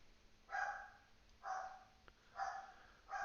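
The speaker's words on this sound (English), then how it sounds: "Oh, the dogs are going crazy." House dogs bark at workers outside, a slightly muffled, evenly spaced series of four barks roughly a second apart, moderately distant over a quiet background.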